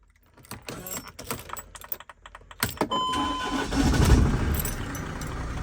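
Mercedes Sprinter camper van engine with a freshly changed battery: a few clicks and rattles, then the starter cranks and the engine catches first time, settling into a steady, close idle.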